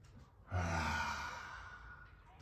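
A big exhale through the open mouth at the end of a chilled stretching session, a single long breathy release that starts suddenly, swells and then fades softly.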